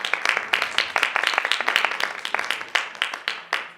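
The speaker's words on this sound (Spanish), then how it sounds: "Un fuerte aplauso nuevamente," Applause after a lecture at a keynote conference, from a small audience with distinct individual claps, fairly close and sparse rather than a dense roar.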